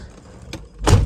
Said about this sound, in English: Close the door, get it nice and quiet in here for you.